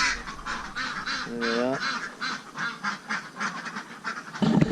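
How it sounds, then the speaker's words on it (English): Waterfowl by a fishing spot give repeated honking, quacking calls, fairly close and moderately loud, over outdoor background noise, with a person speaking briefly. "There's my ducks again."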